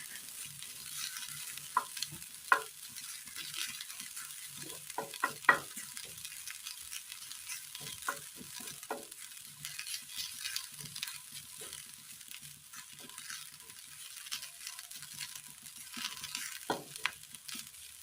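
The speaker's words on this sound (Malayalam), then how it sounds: "ചൂടായി വരുമ്പോൾ അതിലേക്ക് തേങ്ങ തിരുമിയത് ഇട്ട് കൊടുത്തു. ഇതൊരു ബ്രൗൺ കളർ ആകും വരെ ഒന്ന് വഴറ്റിയെടുക്കാം." Grated coconut sautéing in a hot pan until brown, a soft continuous sizzle with scattered scraping stirs of a spoon, quiet and close with no voices.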